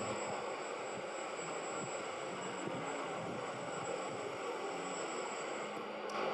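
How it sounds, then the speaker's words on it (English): A small cardboard helicopter flies at a maker faire, its whirring drone running steadily and fairly faint, a constant buzzing hum with no speech. "we saw a cardboard helicopter take off and"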